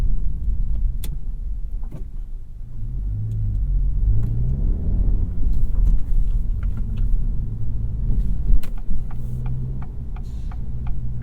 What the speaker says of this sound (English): I like that blinker sound.